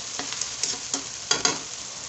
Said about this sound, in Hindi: इसको डाल के मिक्स कर देंगे।